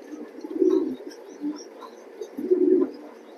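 A pair of proven-line racing pigeons coos in two low, throaty bursts, one early and one later, close and moderately loud over a soft background hum, with no talking.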